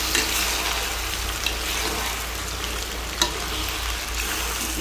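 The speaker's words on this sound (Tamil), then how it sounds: "இதை நம்ம வதக்கிக்க போகிறோம்." Washed chicken pieces sauté in a hot pan with a dense, continuous close-up sizzle and a low background hum. A couple of brief stirring scrapes stand out.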